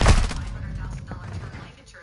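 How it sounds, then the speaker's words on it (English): A loud gunshot from a gun in a video game bursts at the start, followed by sharp sparking crackles and a rumbling decay, with a few quieter shots and game noise trailing off behind it. "This fucking gun, I love it"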